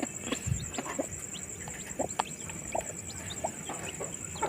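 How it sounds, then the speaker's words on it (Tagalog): Scattered soft clucks and short calls from several native chickens and their chicks, close by, over a steady background hiss. "Ito yung una nating native na manok."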